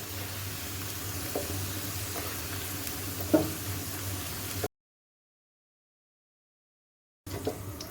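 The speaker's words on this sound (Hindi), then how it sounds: "प्याज को बस, लहसुन और प्याज को इतना ही फ्राई करूंगी" Garlic and onion frying in a pan for chicken biryani, a steady close sizzle with faint stirring clicks, cutting out abruptly midway and returning briefly at the end.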